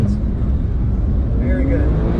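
Porsche 911 Turbo S engine drifting on an icy road in Finland, a loud steady rumble heard from inside the cabin with a voice talking over it.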